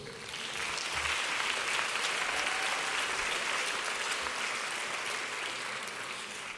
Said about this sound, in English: please give yourself a round of applause for making it to Dublin